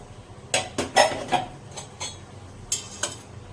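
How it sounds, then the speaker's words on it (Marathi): A pressure cooker is opened after cooling, following a batch of green chickpeas and potatoes for usal: a series of sharp metallic clanks and clinks from the lid and vessel, spaced irregularly and close up, with no talking. "आता आपला कुकर थंड झाला आहे. चला आता उघडते मी."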